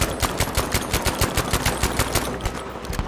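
Thompson submachine gun shots in Battlefield 5 during a D-Day paratrooper fight, a steady series of evenly spaced, close single shots ringing out over continuous battle noise for about three seconds.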